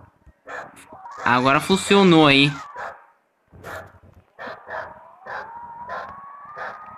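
Dog barking in the Roblox game Car Dealership Tycoon, a series of short barks repeating in an uneven rhythm alongside a rising tone, with someone speaking loudly over part of it.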